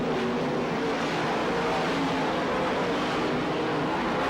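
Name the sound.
sprint cars racing on speedway track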